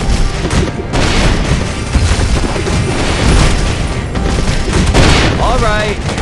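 Explosions and rapid blasts fill a busy battle scene in the mobile strategy game Battle Boom, loud and continuous throughout, with overlapping booms and bursts of fire, and game voices are heard shouting over the din.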